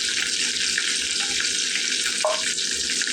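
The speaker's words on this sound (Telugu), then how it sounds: "కొత్తిమీర కరివేపాకు వేసుకుందామండి. కరివేపాకు ఇంగువ వేసుకుందామండి." Curry leaves and asafoetida drop into hot oil for a tomato dal tempering, giving a steady, bright hiss of sizzling that continues evenly throughout.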